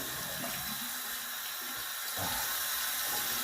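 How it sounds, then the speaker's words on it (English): A faucet runs steadily with a constant hiss of water splashing into a sink, close and unbroken throughout. "I'll turn down the faucet running a little"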